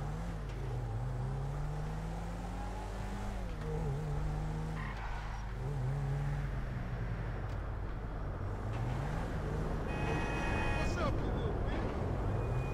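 A car in the video game Grand Theft Auto 5 revs and drives with engine pitch rising and falling, tires squealing in a long skid near the end, loud and close, with a voice talking over it.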